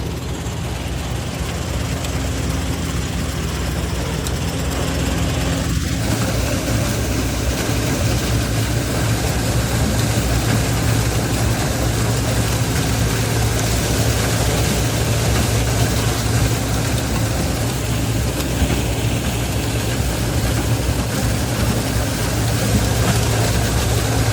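Engine of a maize threshing machine running in a field, a loud, steady, continuous low drone with a slight shift in tone early on and no pauses, close by, no voices.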